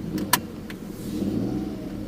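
A Hyundai i10 with a 1.0 three-cylinder engine pulling away: a few light clicks and rattles at first, then a low, slightly rough engine hum that steadily builds, heard from inside the car.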